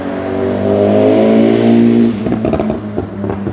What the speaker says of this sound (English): I think that was a BMW and a leader bike.